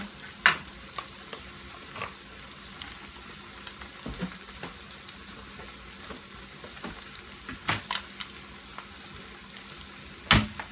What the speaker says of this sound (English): Just fry this on up, just like this here.